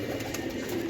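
Golden picture-marked pigeons in a loft give a brief, soft, low coo under a faint steady background hum.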